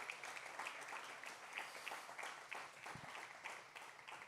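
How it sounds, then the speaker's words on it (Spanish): A church congregation claps steadily in a faint, distant-sounding wash of applause, with a few voices mixed into the clapping. "Dale un aplauso al Señor."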